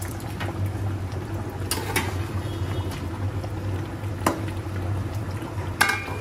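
Mutton curry cooking in a pot, a low steady bubbling simmer with a few sharp clinks of utensils against the pot.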